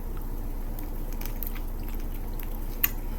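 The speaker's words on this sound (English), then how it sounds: "I can't chew on ice cream." Close, soft chewing and biting on a Dairy Queen Dilly Bar, a chocolate-coated ice cream bar, with steady moist mouth sounds across the clip and one small sharp click near the end.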